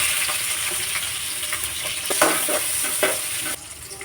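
Steady, loud sizzling of chopped shallots frying in hot oil with spices, with occasional stirring scrapes, continuous throughout and easing slightly at the end.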